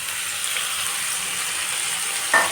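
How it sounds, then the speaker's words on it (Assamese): Potatoes and tengechi leaves frying in hot oil in a pan give a steady, bright sizzle throughout, with a brief clink near the end. "এয়া আলু আৰু টেঙেচি পাতখিনি ভাজি ল'লোঁ"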